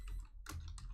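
Typing on a computer keyboard, with quick bursts of close key clicks and short gaps between them.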